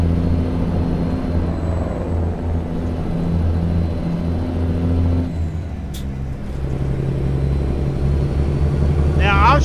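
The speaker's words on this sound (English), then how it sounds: "the new Western Star and the new engine sounds for the truck." A Western Star 57X truck engine in American Truck Simulator drones with a loud steady low rumble that shifts pitch as it accelerates, with a brief air hiss midway.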